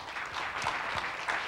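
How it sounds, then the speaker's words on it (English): A conference audience gives a steady round of applause for the previous section, a dense, continuous patter of many hands clapping at moderate volume throughout. "another round of applause for the last section"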